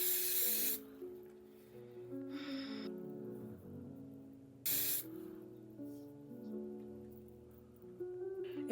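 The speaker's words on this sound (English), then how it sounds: "Spray it on your hand and dab." A spray bottle spritzes twice onto a hand in short hissing bursts, several seconds apart, over soft background music, while styling wig edges.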